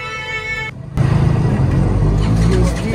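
Auto rickshaw engine running steadily while riding, a continuous close rumble that picks up after a short dip, with talk over it.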